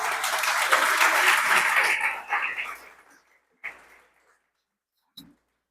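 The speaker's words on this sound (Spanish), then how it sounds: "Dale un aplauso al Señor." A church congregation applauds for a few seconds, a full burst of clapping that fades out and stops, followed by a couple of isolated knocks in an otherwise quiet room.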